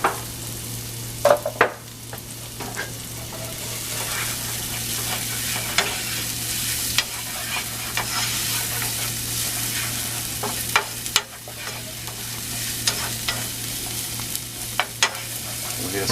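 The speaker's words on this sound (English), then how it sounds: "we're going to saute my shallots and my onions" Shallots and onions sauteing in a hot pan give a steady close sizzle, with occasional sharp clinks and scrapes of stirring scattered throughout, and no voices.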